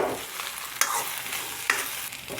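Tomato rice stirred in a hot pan over high heat, a spoon scraping with two sharper knocks on the pan over a continuous close sizzle.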